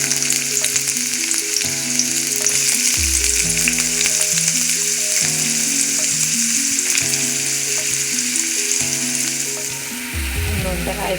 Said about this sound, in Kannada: ತೆಂಗಿನ ಎಣ್ಣೆ, ಅಕ್ಕಿತ್ತೆ ಒಗ್ಗರ್ನೆಗೆ ಈರುಳ್ಳಿ ಪಾಡೊಂದುಲ್ಲೆ.